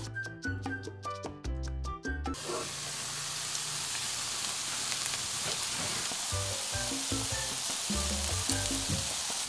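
Steady sizzling of chicken and cabbage patties steam-frying in a covered pan over medium-low heat, a continuous loud hiss after some brief clattering at the start, with faint crackles throughout.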